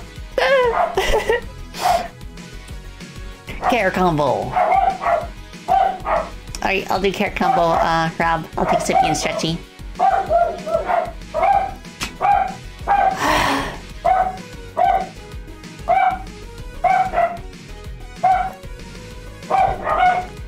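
Several dogs bark and yip in the background in a rapid, repeated series of sharp calls, running under a person's continuous close talk.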